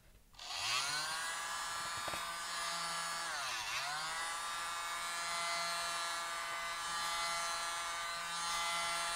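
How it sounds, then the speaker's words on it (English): Small electric mini blower whirring steadily over an acrylic metallic paint puddle pour, a thin motor whine with slight pitch dips as it is moved, fairly quiet and continuous with no talk. "I have a mini blower"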